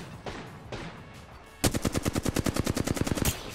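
Automatic gunfire in the video game Apex Legends, a rapid burst of about fifteen evenly spaced loud shots following a quieter stretch with a couple of muffled thumps.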